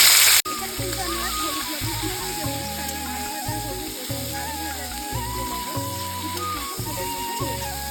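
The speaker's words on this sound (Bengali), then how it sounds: "ওই তেলেই এবার আমি ফুলকপিগুলোকেও হালকা করে ভেজে নেব" Cauliflower florets frying in oil make a continuous crackling sizzle that runs under louder rhythmic background music for the whole stretch, after a brief loud burst at the very start.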